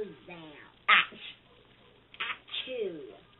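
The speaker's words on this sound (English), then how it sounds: "He sneezed." A single sharp sneeze from a character bursts out in a short clip, surrounded by brief high-pitched voiced sounds and squeaky vocal fragments.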